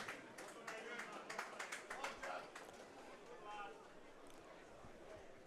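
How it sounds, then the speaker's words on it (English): Scattered claps from spectators at a Newcastle Thunder versus Wakefield Trinity rugby league cup match, faint and distant, sharpest in the first couple of seconds before fading, while a commentator talks over them. "Good round of applause for the Newcastle Thunder player as he came down the touchline side"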